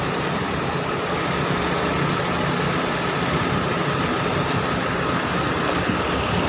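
A Patas express bus engine rumbles loud and steady, close by and alone, as the bus pulls into a parking shelter at Terminal Murasi.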